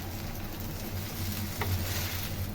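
Rava dosa batter sizzling on a hot pan, prepared hotel style, a steady close frying hiss with faint crackle, one brief scrape near the middle, no voices.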